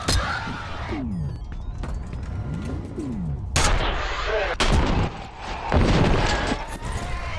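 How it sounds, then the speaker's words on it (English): Explosions and combat blasts in the video game Deus Ex: Mankind Divided, several loud bursts with rushing, sweeping effects over a busy background of game sound, no clear talk. "Why did he explode?"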